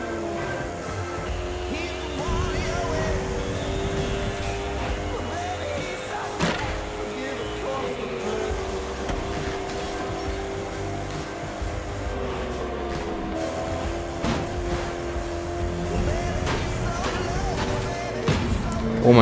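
Koenigsegg Regera hypercar in The Crew 2 driving through city streets, a moderate engine drone with shifting pitch and scattered clicks and thumps, under a voice talking.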